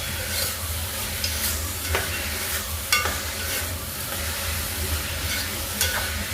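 Mutton curry with onions is stirred in a pan with a steady, close sizzle, while a spoon scrapes and clinks now and then against the metal over the continuous frying hiss.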